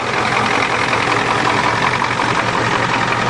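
A Ford diesel truck with no exhaust system or muffler idles steadily and loudly close by, a continuous rough rumble with a faint knocking rhythm and no voices.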